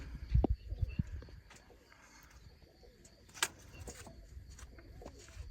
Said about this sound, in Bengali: এই যে কবুতরকে কি খাওয়া এটা দেখেন